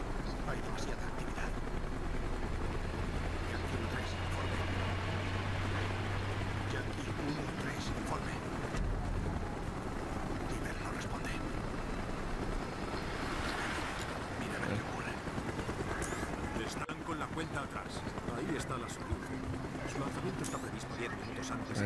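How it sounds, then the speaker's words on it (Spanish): Continuous helicopter rotor thrum hovering nearby throughout in Call of Duty: Black Ops, with voices talking over it. "un helicóptero merodeando"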